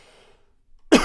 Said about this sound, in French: Je tousse, pardon.